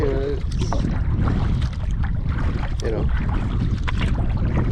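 Strong wind roars and buffets the microphone in a continuous low rumble on the Mississippi River, with faint voices and paddling water sounds barely showing through.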